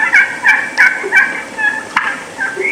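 A wild turkey gobbles repeatedly during a spring hunt, a series of clear, fairly close bursts with short gaps between them, and no talking over them.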